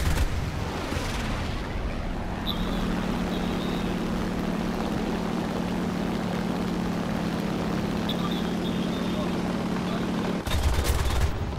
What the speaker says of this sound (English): Shoot that BF 109, Tom.